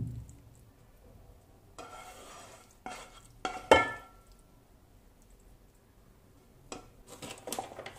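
Fish and masala go into a pot for Kerala fish dum biryani and get stirred, giving scraping, clinking spoon strokes and a soft sizzle in short bursts, close and fairly quiet with no talking.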